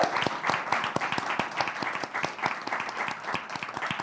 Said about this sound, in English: can I get another round of applause for Lucas?